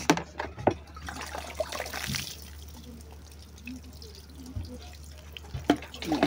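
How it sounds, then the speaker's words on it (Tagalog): Garden plants being watered, with water trickling and dripping steadily onto soil and leaves nearby, broken by a few louder splashes and faint handling noises. "Tapos lagyan natin ng tubig."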